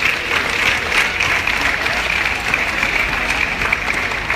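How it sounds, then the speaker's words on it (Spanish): An audience at university sports games applauds in a loud, continuous wash of clapping that fills the whole stretch without pause. "Fuerte los aplausos de nuevo a todos ustedes."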